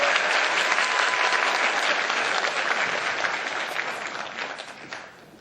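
An audience at a Korean political lecture gives a speaker a loud, sustained round of clapping that gradually thins and fades away over several seconds, with no talk over it.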